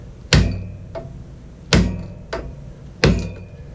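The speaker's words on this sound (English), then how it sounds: "probably not the best idea to use a ratcheting wrench, but it's the only 17 millimeter I had" A 17 mm ratcheting wrench on a tight motorcycle bolt gives three sharp, close metallic clunks about 1.4 seconds apart, each followed by a lighter click, with no talking.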